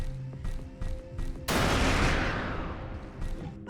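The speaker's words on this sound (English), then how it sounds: "That is a nice little explosion that I covered up." A mega mine explodes in The Riftbreaker video game: one sudden, loud blast with a long crackling, rumbling decay. Faint rhythmic game sounds come before it, and no voices are heard.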